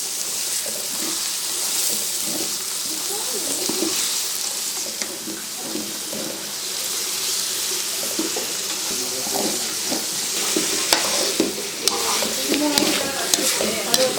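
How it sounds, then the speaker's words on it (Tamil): Mutton liver goes into a pan of onion, ginger and garlic, with a steady sizzle of frying and occasional stirring scrapes throughout. "மஞ்சத்தூள், உப்பு, எலுமிச்சப்பழம் போட்டு அலசி வச்ச லிவரை போட்டுக்கலாம்."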